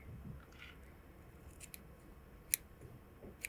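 Scissors snip synthetic fly-tying material for a Clouser fly, with a few faint, sharp clicks over a quiet background.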